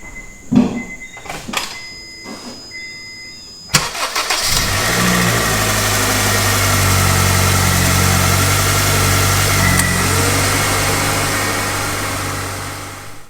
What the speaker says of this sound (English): I'm gonna hop inside the car, fire this thing up, engage the AC